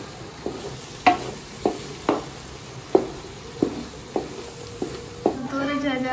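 Ridge gourd (turai) being stirred in a cooking pot, about a dozen evenly spaced metallic scrapes and clinks of a spoon against the pot over a soft sizzle, close and clear, with no talk.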